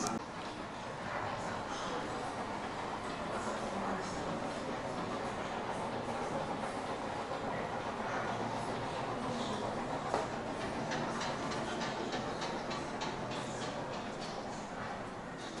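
A train running on a railway plays as a museum exhibit sound, a steady dense rumble with rhythmic ticking and clatter that fills the whole stretch, with faint voices mixed in underneath.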